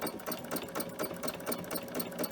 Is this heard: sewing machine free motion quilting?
yes